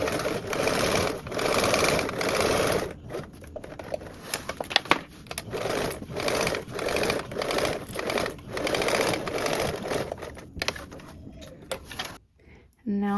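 A sewing machine bastes a flat pocket onto a duffle bag panel along the bottom and side at a narrow seam allowance, running close and loud in steady bursts with short pauses, under a voice.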